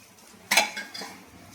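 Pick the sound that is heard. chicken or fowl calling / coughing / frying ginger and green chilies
frying ginger and green chilies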